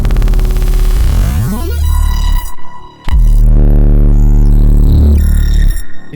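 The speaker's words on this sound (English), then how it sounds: "this plugin called ReaDelay can allow you to get super short feedback delays" Super short feedback delays from the ReaDelay plugin in Mick Gordon-style Doom sound design, making loud, dense, metallic, resonant tones. The tones sweep and throb in pitch, broken by a brief dropout before a second heavy burst.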